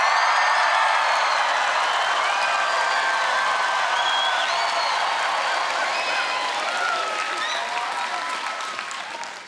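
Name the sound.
live studio crowd cheering and applauding in Manukau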